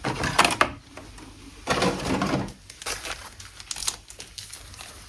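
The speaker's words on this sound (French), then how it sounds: "On va ouvrir les 5 premiers boosters" Pokémon card booster packs being torn open up close, with sharp crinkling foil and tearing bursts in irregular clusters over a few seconds, then softer rustling of the wrappers.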